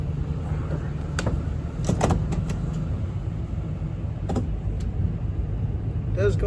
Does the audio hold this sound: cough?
no